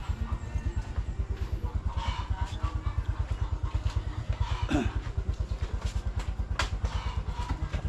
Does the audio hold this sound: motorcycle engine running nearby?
yes